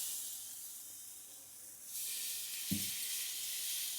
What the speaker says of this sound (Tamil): இப்போ நம்ம தோசை ஊற்றிடலாம்